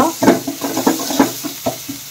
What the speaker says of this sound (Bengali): পেঁয়াজটা একটু ভাজা ভাজা করে নিলাম